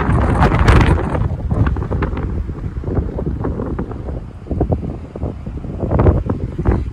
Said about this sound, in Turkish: İnanılmaz derecede rüzgar var.